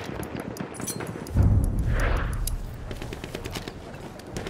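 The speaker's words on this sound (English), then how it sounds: "Enemy machine gun sighted!" Enemy machine gun fire in the World War I shooter Battlefield 1 on the Somme River map, a steady rattling stream of rapid shots with a heavier burst and boom partway through, under battlefield ambience.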